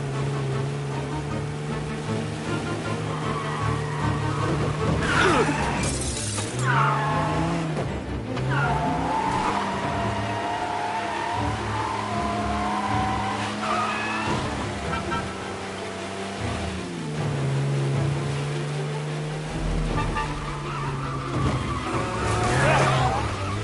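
A car speeding through a video game chase, steady engine drone shifting pitch with gear changes, punctuated by several sharp tire skids and squeals, loud and close.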